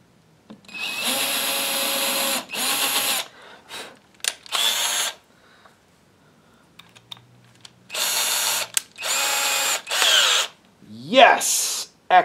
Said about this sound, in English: Let's put a screw there, and let's drill